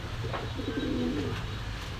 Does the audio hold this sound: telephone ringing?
no